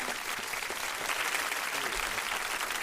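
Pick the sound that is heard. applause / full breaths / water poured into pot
applause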